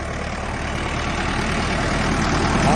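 A Sonalika 50 tractor engine drones steadily while ploughing in third medium gear, a loud, close, continuous low rumble with no talking.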